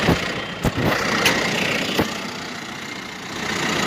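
A tractor set up for mowing idles at lowered RPM, giving a steady engine hum with a few sharp knocks near the start and a slight swell at the end.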